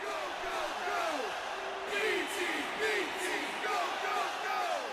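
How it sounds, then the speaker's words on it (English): A wrestling arena crowd in the video game WWE 2K20 roars in support of the B Team, making a steady, dense wash of cheering with rising whoops and shouts throughout. "You can hear the support that they have, the B Team, supported by the crowd."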